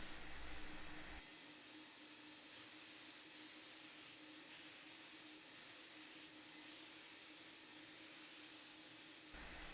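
A brief low noise gives way to a sustained hiss of a spray gun applying wood dye to a mid-century side table, steady and close, broken by short bursts and pauses.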